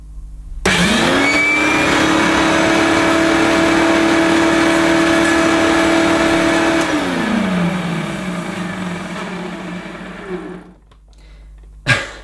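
A Hoover U1060 Turbopower Total System vacuum cleaner switches on and runs noisily, its motor whining up to a steady, unhealthy-sounding roar for several seconds before winding down, followed by a sharp click near the end.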